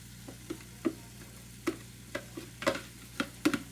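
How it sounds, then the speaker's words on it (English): Vegetables stirred into a gumbo roux in a pot, with soft repeated scraping strokes at an irregular rhythm over a low steady sizzle and hum, close and moderately quiet. "You stir it constantly, not as much as the roux that we just made"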